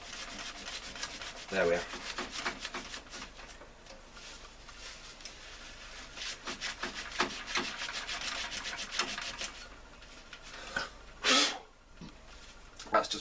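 Pink cleaning paste rubbed by hand over corroded metal from an Amstrad PC1512, a steady scrubbing rasp with bursts of stronger strokes around the middle and near the end, close up; a brief spoken remark is heard.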